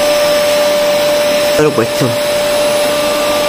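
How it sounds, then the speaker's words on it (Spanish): A vacuum cleaner runs steadily at home, its constant loud whirring drone filling the clip while someone speaks briefly over it. "Y ese ruido de la aspiradora."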